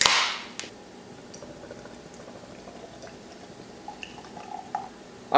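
Pale ale from pFriem Brewing pours into a glass, opening with a loud splash then settling into soft fizzing and crackling foam with scattered small drips.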